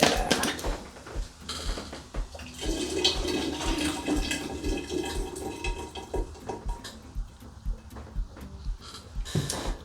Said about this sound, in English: now I'm going to add some apple juice into here